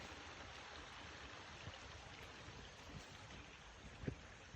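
Champion Creek flows beside a hiking trail, a steady close broadband rush of running water that holds evenly throughout with no voices.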